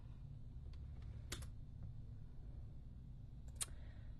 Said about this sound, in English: Let me see if I can type.